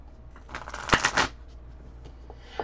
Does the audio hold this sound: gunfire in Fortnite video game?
no